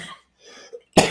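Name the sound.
person coughing after choking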